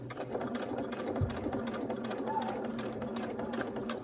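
A sewing machine stitches vinyl with matching thread for a Santa-face handbag, its fast steady hum and needle chatter running close and continuous for several seconds, with no talking.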